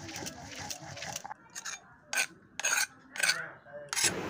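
Raw kharkol leaves are ground with garlic, onion and green chilli by hand, giving soft rasping and scraping strokes followed by several short, sharp scraping bursts with pauses between them, close and fairly quiet.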